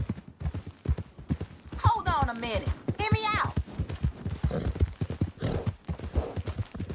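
A horse's hooves clip-clop in Red Dead Redemption 2, a soft, rhythmic patter that runs beneath steady conversation among several voices.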